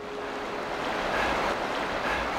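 Flowing water from a river in snowy Swedish winter, a steady, loud broadband rush throughout with no other sounds or voices.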